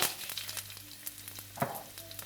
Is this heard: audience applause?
no